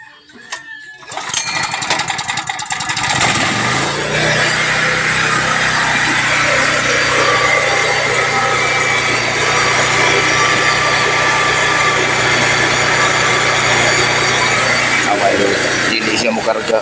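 A Blackstone 3.8 kVA gasoline generator that is not producing current starts up and settles into a loud, steady, close engine drone, with someone talking under it.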